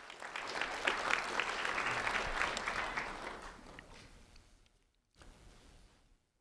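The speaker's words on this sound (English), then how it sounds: "a round of applause for Adrian Quintanilla" An audience at a Fort Myers recognition event applauds a 6th grade student, a dense steady round of clapping that tapers off after about four seconds, followed by a short silence and a brief quieter patter.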